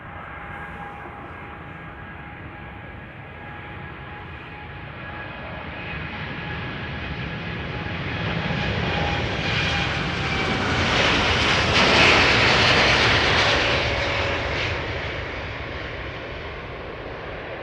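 Iberia Boeing 787 Dreamliner jet departing Amsterdam Schiphol for Madrid. Engine roar builds slowly from a distant whine, peaks loudly around two-thirds of the way through, then begins to fade, with thin whining tones throughout.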